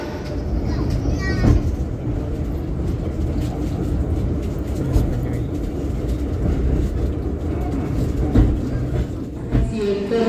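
Pasundan extra Lebaran passenger train rolling toward Kertosono station, a steady low rumble throughout with a few soft knocks, under occasional talk inside the carriage.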